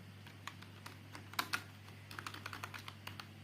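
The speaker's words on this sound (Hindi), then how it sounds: "तो यहाँ पे हम टाइप करने वाले हैं" Keys clacking on a computer keyboard while typing text into MS Word, irregular quick taps with a short louder burst midway, close and fairly quiet over a steady low hum.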